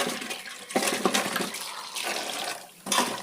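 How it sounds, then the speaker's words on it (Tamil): Running water splashes as potatoes are rinsed in a kitchen, with bursts of pouring and sloshing, brief clunks, and a fresh gush near the end; no one speaks. "இப்போ நம்ம இந்த உருளைக்கிழங்கு வந்து ஒரு ரெண்டு வாட்டி வாஷ் பண்ணிவிட்டு போதும்"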